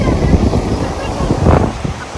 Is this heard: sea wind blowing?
yes